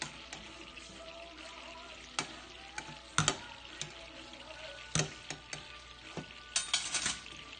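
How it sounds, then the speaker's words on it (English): Meatballs brown in a frying pan with a quiet, steady sizzle, broken by sharp clicks and clatters of stirring and turning, close and without talk. "meatballs should be browned before you put them into the sauce"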